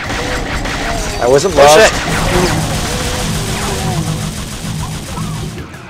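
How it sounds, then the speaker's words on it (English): Gunfire crackles in a Doom map, a sharp burst of shots peaking early then trailing off, mixed with game effects while players talk excitedly over it. "somebody's shooting something"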